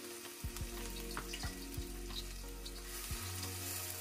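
White parts of green onions fry in oil in a hot wok, a steady close sizzle broken by a few sharp clanks of a utensil against the metal and a low hum underneath.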